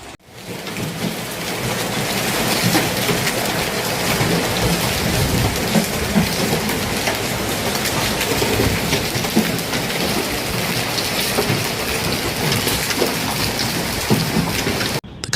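Heavy thunderstorm over France with dense, steady rain and hail pounding surfaces, a continuous loud roar with rumbles of thunder underneath, no voices.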